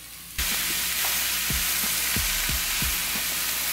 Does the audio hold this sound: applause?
no